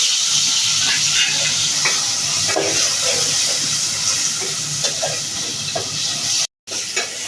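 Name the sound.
spice paste frying in hot oil in a pot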